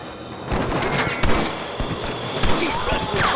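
Gunfight in Red Dead Redemption on PC, a rapid scattered volley of sharp gunshots cracking one after another at close range, with a loud cluster near the middle and a steady background rumble.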